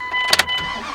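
A truck engine with a newly repaired starter fires up: a quick pair of loud cranking bursts, then a steady running hum, close by.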